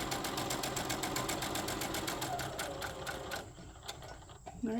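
A sewing machine runs steadily, stitching a seam for a boxy bag with a brief back-stitch at the start, a rapid even needle rhythm that stops near the end, leaving a quiet room.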